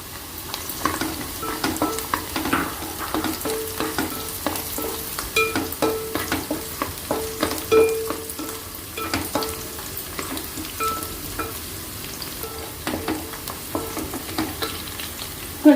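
Cashews and onions frying in a pan for bagara rice, a steady crackling sizzle with frequent spatula scrapes and clicks throughout, close and fairly loud, no talking.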